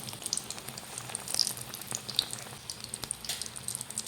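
Aloo chops deep-frying in hot oil in a village-style Bengali kitchen, a steady soft sizzle with scattered crackles and pops, fairly quiet and with no talking.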